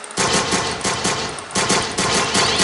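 Gunfire from a P99 pistol in Ferulo's gun mod for a video game, dense rapid bursts with a short pause midway, loud and close, with no voices.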